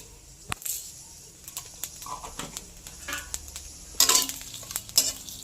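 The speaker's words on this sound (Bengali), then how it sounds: "এবারে দিয়ে দেব 2 চামচ কালো জিরে।" Black cumin seeds hit hot mustard oil with frying onion, garlic and chili for a dried-shrimp mash, giving a soft sizzle under irregular stirring scrapes and spoon clacks against the pan, with one sharper burst of crackle partway through.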